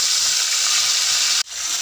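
Onion paste with black cumin and whole garam masala sizzles steadily in hot oil, a close, continuous bright hiss that briefly cuts out near the end before resuming.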